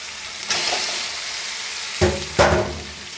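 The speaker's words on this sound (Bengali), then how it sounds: "ভালো করে কষে নিতে হবে।" Elephant foot yam pieces being stirred and fried with fish and spices in a pan, giving a steady sizzle broken by a few louder bursts of spattering as the mixture is turned.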